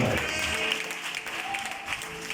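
A church congregation applauds and cheers during a sermon, a continuous roar of clapping and voices with music tones underneath, loud and sustained throughout.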